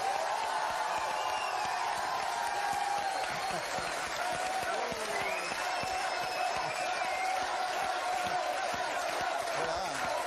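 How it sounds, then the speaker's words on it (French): Studio audience of a French TV quiz show applauding and cheering as guest Bertrand Blier arrives, a dense, steady wash of clapping and crowd noise filling the whole stretch. "Je vous demande d'accueillir et d'applaudir Monsieur Bertrand Blier"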